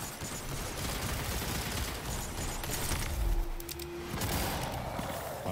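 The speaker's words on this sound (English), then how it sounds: "how many fucking shots is it gonna take?" Dense rapid gunfire in the Destiny Grandmaster Nightfall Exodus Crash, a steady barrage of shots with a brief low boom partway through, loud and continuous throughout.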